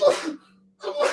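A single loud sneeze close up, followed by a short pause of near silence and then a second burst of similar noise, with a faint steady hum underneath.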